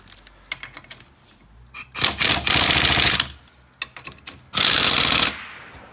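Two loud, rattling bursts of a power tool driving a 17mm socket tighten the wheel spacer nuts on a 2019 Polaris Ranger XP1000, with metallic clinks and handling noises between and around the bursts.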